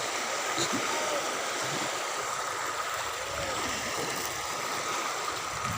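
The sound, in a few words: sea waves at low tide on a beach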